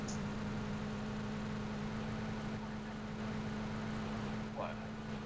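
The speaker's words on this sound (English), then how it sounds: "I don't like this car. It always sounds like there's another one close by." A car engine drones steadily while driving in the PUBG video game, a constant low hum under a person talking.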